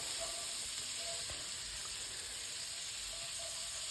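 Sliced onions sweat down in a pan for a sausage casserole, giving off a soft, steady sizzle and hiss at low volume.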